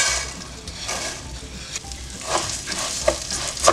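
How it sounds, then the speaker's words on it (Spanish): Washed, dried rice frying in very hot oil in a pan gives a steady close sizzle, with stirring scrapes and a few sharper clicks of a utensil near the end, and no talking. "En un sartén ya pusimos aceite, ya está muy caliente, vamos a agregar arroz, ya lo lavamos y ya está seco,"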